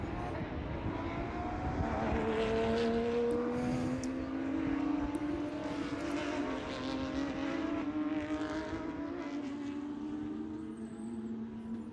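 Porsche Sprint Trophy race cars at Sebring run in a pack behind the pace car, with a sustained, distant engine drone whose pitch slowly rises and falls as the field passes, under light wind.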